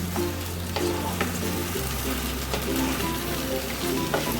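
Chicken coated in a cornflour-and-water batter frying in a pan, a steady crackling sizzle with repeated spoon clicks and scrapes as it is stirred, plus a faint tonal hum underneath.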